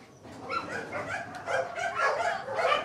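Dogs in kennels at a Humane Society animal shelter, bigger dogs among them, give repeated whimpers, yips and barks. The noise comes in a steady string of overlapping calls at moderate distance, with no talk over it.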